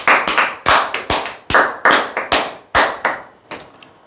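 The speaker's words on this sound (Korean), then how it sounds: "박수 한번 치시죠." Audience hands clapping in a series of sharp, loud bursts with brief pauses between them, fading to a few scattered claps at the end, with no talking.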